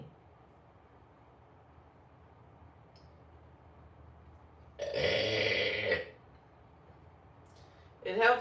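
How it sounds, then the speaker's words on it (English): A person lets out a loud, drawn-out burp lasting about a second, then a second shorter burp starts a couple of seconds later, both against a quiet room hum. "It helps with my IBS when I burp."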